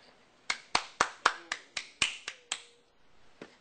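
A lone pair of hands or a small classroom group claps about ten sharp, evenly spaced times for a student's geometry project, the claps close and dry, then stops after a short pause.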